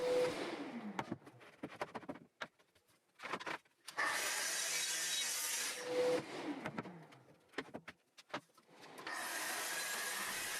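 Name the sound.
saw cutting birch plywood strips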